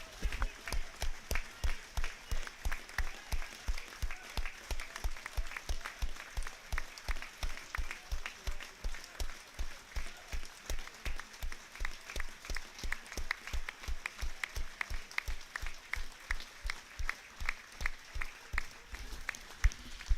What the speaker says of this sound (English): here's the applause on 6 minutes